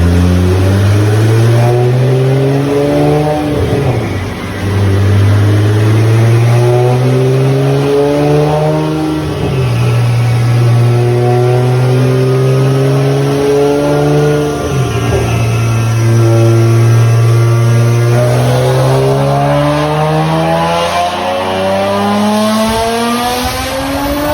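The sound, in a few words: Nissan GT-R car revving on a dyno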